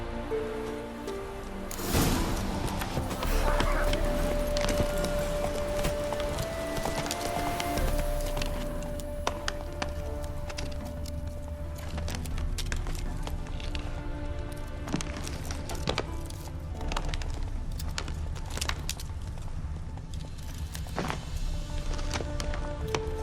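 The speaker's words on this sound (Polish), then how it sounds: "Wygląda na to, że koń zaczął kuleć." Horse hooves clip-clop steadily in The Witcher 3, a continuous run of close hoof knocks over a rustling, rain-like wash of ambience, with the odd sharper clack.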